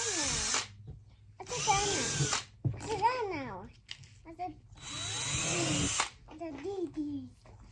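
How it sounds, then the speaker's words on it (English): A power drill bores drainage holes in a worm farm bin in four loud whining bursts, alternating with a voice and other talk. "we have holes drilled all the way around, as well as on the bottom to keep it draining"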